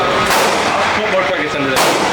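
Two sharp, loud gunshots from a Glock pistol at a shooting range crack out about a second and a half apart, with voices in the background.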